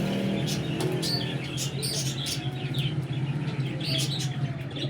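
Pigeons cooing and calling nearby with occasional wing flutters, over a low steady background hum.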